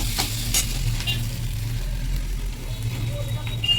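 Food sizzles and is stirred on a gas stove in a cramped room, with a steady low hum underneath and scrapes of a utensil near the start.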